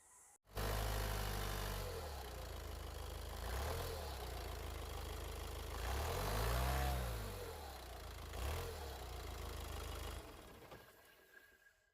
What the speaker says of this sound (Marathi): आपण आता गाडी चालू करून बघूया